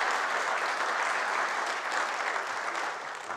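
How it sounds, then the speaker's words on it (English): A church congregation at a Sunday worship service claps together in steady, dense applause that holds for several seconds and tapers slightly at the end. "I think they all deserve a round of applause for being such good sports."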